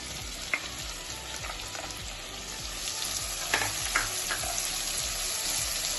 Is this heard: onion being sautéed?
yes